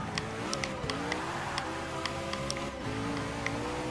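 Koenigsegg One:1 engine in the Forza 6 video game, in fourth gear at high speed on the Rio track, a steady, loud, high-revving drone with rising harmonics and small ticking clicks, with no voices.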